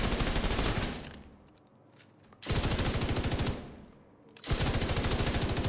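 Light machine gun fire in a video game, loud sustained automatic bursts in two long strings separated by a brief lull, with no talking over it.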